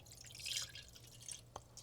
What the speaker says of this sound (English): So I'm going to fill this up with some water first.